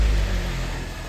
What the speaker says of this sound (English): start up the car and show you how it sounds